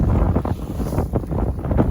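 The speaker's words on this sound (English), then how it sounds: "wind's now probably gusting a 4. It's a real onshore breeze." Onshore wind gusting around a Westerly Fulmar sailboat at sea, a loud, continuous rushing buffet on the microphone with uneven surges and no voices.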